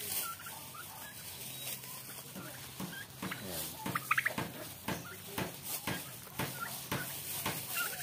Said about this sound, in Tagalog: Ngayon ay magpapakain ako ng aming mga alagang pabo.